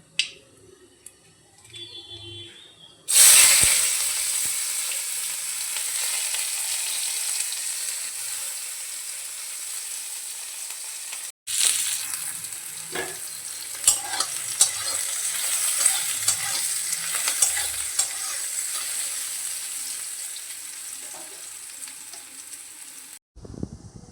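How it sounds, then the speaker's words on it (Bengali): Chopped onions fry in a pan over a medium-low flame, a steady close sizzle that runs on and on, broken by occasional stirring scrapes and clicks. "পেঁয়াজ কুচিটা মিডিয়াম টু লো ফ্লেমে ভাজা হতে থাকবে"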